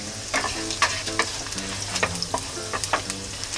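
Coarsely chopped garlic sizzles steadily in a pan on low heat while a utensil scrapes and stirs it in repeated close strokes, with no talking.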